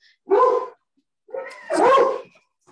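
A dog barks nearby, two short loud barks separated by about a second of quiet, the second drawn out into a yelping bark.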